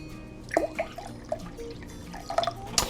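Freshly made warm coffee and apple cider vinegar, about two parts to one, poured together for a brisket spritz, giving a few faint, scattered drips and small splashes close by.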